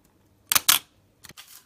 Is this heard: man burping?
no